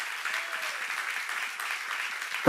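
A church congregation at a Korean seminar applauds together, a steady moderately loud wash of clapping that holds evenly for a couple of seconds before a sharp louder knock at the very end.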